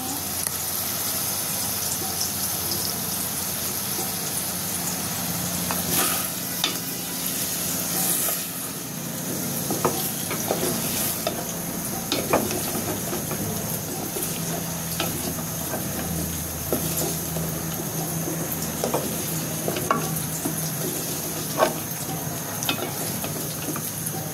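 Chicken and papaya curry is stir-fried in a pan with a steady sizzle and hiss. Scraping and stirring clicks from the spoon recur throughout. No one speaks.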